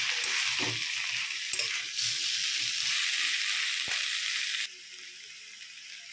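Prawns and raw jackfruit fry in oil while being stirred, giving a loud continuous sizzle with soft scraping stirs underneath; the hiss drops noticeably in level near the end, with no talking.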